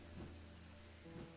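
Rain falls steadily in the video game Strange Antiquities, a faint continuous patter with soft low swells, blended with the game's ambience.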